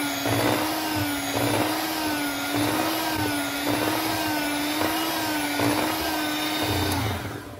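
A hand blender whirs steadily as it churns cream into butter at home, a loud continuous motor whine with a slight rhythmic wobble and faint thumps from the bowl.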